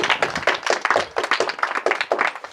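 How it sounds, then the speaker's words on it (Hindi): Audience claps to welcome a young dancer at an Independence Day celebration in a tuition class. Close, loud clapping comes in quick rhythmic bursts of sharp hand slaps, with no talk over it. "तो स्वागत करेंगे इसका जोरदार तालियों के साथ।"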